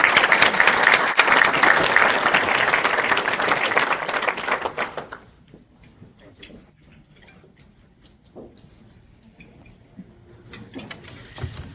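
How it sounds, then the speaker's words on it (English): Audience applause welcoming a speaker to the podium at a health policy talk, dense clapping for about five seconds before dropping away to a quiet room with scattered faint sounds. "So please give a round of applause to welcome Dr."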